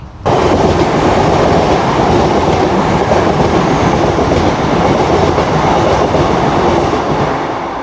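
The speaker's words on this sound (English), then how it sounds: "Oh yeah, forgot about the trains." A train rumbles past nearby at Bowling Harbour, loud and steady throughout, with rhythmic clattering of wheels on the rails and a constant heavy roar.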